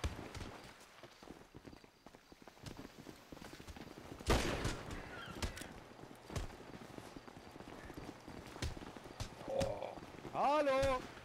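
Gunfire rings out in a GTA roleplay game as scattered sharp reports and one loud broadband burst near the middle, mixed with hoof-like clatter and other game noise, with voices talking faintly underneath.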